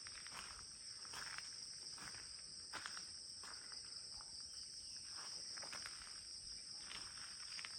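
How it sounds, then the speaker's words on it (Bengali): Crickets chirp steadily at night outside a bungalow guest house, a continuous high trilling drone with soft repeated pulses layered over it, calm and moderately distant with no voices. "কিন্তু শুধুমাত্র ঝিঝি পোকা ডাকছে"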